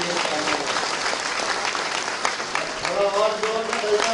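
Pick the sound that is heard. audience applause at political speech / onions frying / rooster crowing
audience applause at political speech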